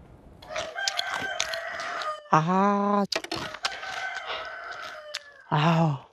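A rooster crows twice, loud and close, amid scattered clucking chickens and people talking.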